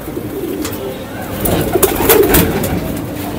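Malabar pigeons cooing nearby in soft repeated low calls amid rustling and a few sharp taps, at a pigeon flying competition.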